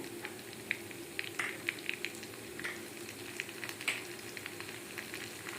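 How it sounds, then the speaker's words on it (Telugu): Coriander seeds and garlic sizzling in a pan for an Andhra-style ginger chutney, a quiet steady fry with scattered small pops and crackles, close by and without speech. "ధనియాలు వెల్లుల్లి వేస్తున్నాను"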